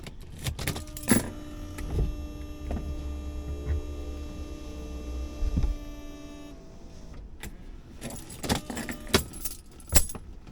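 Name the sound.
car power windows rolling up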